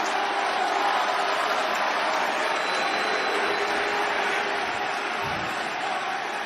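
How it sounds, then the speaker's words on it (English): A wrestling-style live crowd fills the space with steady, dense noise, a mix of booing and scattered clapping that holds at an even loud level throughout, with no single voice standing out. "I hear boos, but I also hear clapping"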